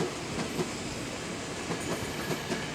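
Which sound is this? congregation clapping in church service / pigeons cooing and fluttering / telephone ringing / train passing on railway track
train passing on railway track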